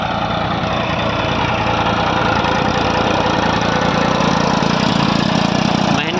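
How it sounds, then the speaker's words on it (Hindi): A 2006 Mahindra Arjun 445 tractor runs with a single-line trencher, about five or six years old, during trench planting of sugarcane. The engine drones loud and steady and close up, with a rough mechanical clatter and no pause throughout. "महिंद्रा अर्जुन 445 2006 मॉडल। और ये सिंगल लाइन का ट्रेंचर है, लगभग 5-6 साल पुराना।"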